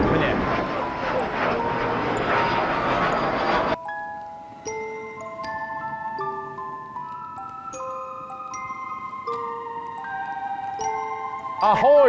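A small airplane passes overhead at Legoland in Billund, Denmark, its broad engine drone loud at first, then cutting off as plucked melodic tones take over.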